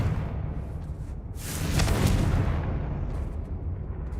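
A Confringo fire spell bursts into an explosion in Hogwarts Legacy, a rumbling blast that swells midway and fades slowly under game ambience, with no voices.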